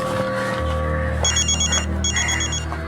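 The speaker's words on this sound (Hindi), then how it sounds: "डैडी का फोन है, मैं जरा बात कर लेता हूँ।" A telephone rings twice in short bursts of electronic trilling, heard over a steady low background hum and music bed in an indoor setting.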